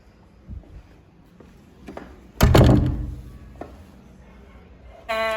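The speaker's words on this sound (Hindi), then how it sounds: "तो दरवाजा बंद करना पड़ा है" A door closing indoors during a home cleaning day, a sharp loud thunk with a short rattle after it, then quieter knocks and a brief noise at the end.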